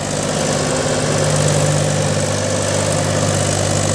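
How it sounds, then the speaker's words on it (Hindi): A Mahindra 265 DI Power Plus tractor engine runs close and loud in a steady, throbbing drone with a knocking diesel rumble throughout, no talk. "महिंद्रा 265 पावर प्लस का जवाब नहीं दोस्तों ट्रैक्टर का"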